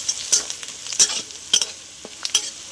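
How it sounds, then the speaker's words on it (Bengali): Onions with green chillies, coriander, cumin and red chilli powder stirred and frying in a pan for chicken kosha: a steady hiss of sizzling oil with sharp, repeated scrapes of the spoon at irregular moments, close and alone with no talk. "ভালো করে নেড়ে নেব।"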